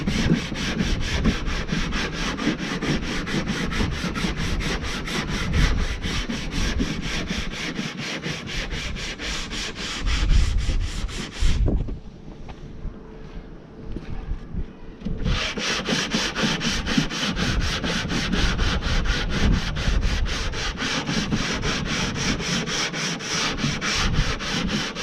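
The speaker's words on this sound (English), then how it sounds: "Give it a quick sand down." A surface inside a VW Crafter Sprinter camper van conversion is sanded by hand in a long, steady run of close, rhythmic abrasive rubbing strokes, broken by a brief pause partway through.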